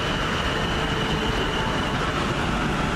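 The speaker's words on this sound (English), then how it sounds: "the train to Southampton Central's just leaving" A train pulls out of Havant station bound for Southampton Central, a steady close rolling rumble of wheels and carriages with a faint high whine, continuous and loud throughout.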